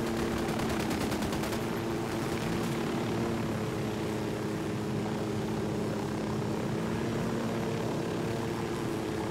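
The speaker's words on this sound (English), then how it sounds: "We're doing a helicopter drive-by." A helicopter flies in Ghost Recon Wildlands, a loud, steady rotor and engine drone filling the scene, with brief rattles of gunfire early on.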